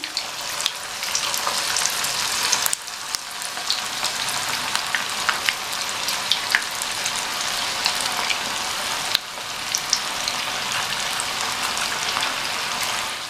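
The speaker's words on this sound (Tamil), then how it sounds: "கடாயில் எண்ணெய் விட்டு சூடாகிடுச்சு. நம்ம ரெடி பண்ணி வச்ச மாவுலேருந்து எடுத்து இந்த மாதிரி ஷேப்பாக போடாமல் ஷேப்லெஸ்ஸாக இந்த மாதிரி கிள்ளி கிள்ளி போட்டுக்கணும்" Pinched, shapeless pieces of rava pakoda batter deep-fry in hot oil in a kadai, a loud, continuous, dense sizzle with crackling pops throughout and no talking.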